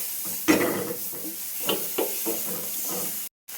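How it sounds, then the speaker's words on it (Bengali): Salt, turmeric and chili powder are stirred into a ground paste, soft close scraping and mixing strokes in a few uneven bursts, ending in a sudden brief cutoff. "এখন এটা আমি একটু গুলিয়ে নেব, তারপর এটা আমি"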